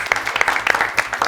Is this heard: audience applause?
yes